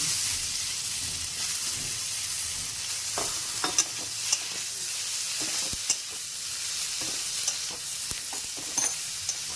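Eggplant pieces fry in a hot pan on a gas stove, giving a steady close sizzle broken by occasional clinks and stirring scrapes, with no talk.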